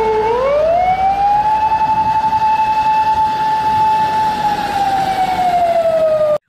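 A toy fire truck siren wails loud and close, rising in pitch, then holding a steady electronic tone before cutting off abruptly.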